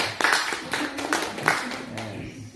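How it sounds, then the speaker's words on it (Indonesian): Short burst of hand clapping from a small group at a school education-report analysis meeting in a classroom, several claps over a couple of seconds with voices in the room. "Aplaus dulu numerasi."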